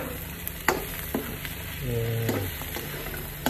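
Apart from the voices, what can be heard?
stirring tofu frying in a pan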